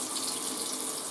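Hot water runs steadily from a sink tap, a loud, continuous hiss of splashing water heard alone and close.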